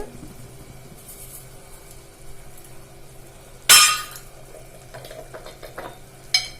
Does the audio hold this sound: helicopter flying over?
no